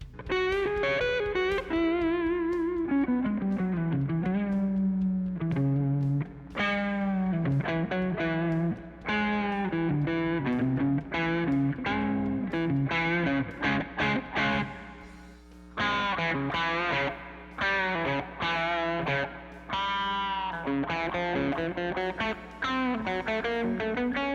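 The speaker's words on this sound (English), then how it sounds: "bending the string before I hit the string with my pick, and then kind of releasing that note back to its original position" An electric guitar plays distorted notes that are bent up with the pick and released, giving a bluesy twang in a sustained, loud phrase with short breaks and no talking.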